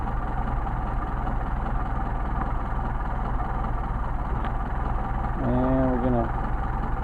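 A Mercedes 190SL engine with Solex carburetors idles in a steady, even low rumble that holds throughout, with a brief voice heard over it near the end.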